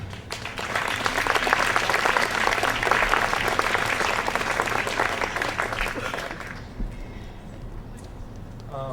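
Conference audience applauding at a 2011 children's literature gathering, a dense, steady wash of many hands clapping that holds for about six seconds, then tapers off into quieter room noise with a few scattered claps.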